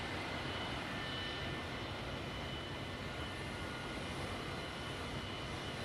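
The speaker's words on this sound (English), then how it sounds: "a phenomenally powerful combination of 6 mighty jet engines, which were hopefully to propel the Valkyrie" The six jet engines of the XB-70 Valkyrie roar as a steady, dense broadband rush, loud and unbroken throughout with no voices.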